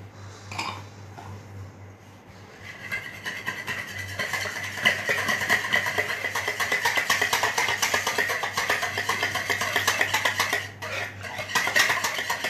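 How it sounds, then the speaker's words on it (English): A spoon stirs a mixture with Amul cooking cream in a pot, producing a continuous close scraping and clinking that builds after a quieter start and runs nearly unbroken. "We are putting it also. And we will give a nice stir"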